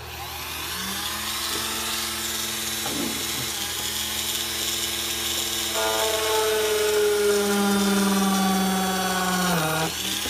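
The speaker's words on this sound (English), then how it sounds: "I'm going to drill a hole." A power drill whines steadily, its pitch shifting as the bit bites and strains through a boat hull, loud and close, with no talk.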